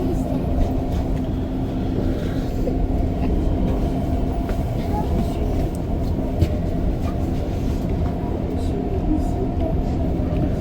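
An REM commuter train rides the Deux-Montagnes line, heard as a steady, loud rolling rumble and hum from inside the train wagons that holds even throughout.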